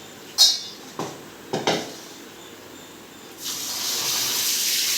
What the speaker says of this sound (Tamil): கழுவிட்டு நல்ல தண்ணி ஊற்றி ஊற வைக்கலாம்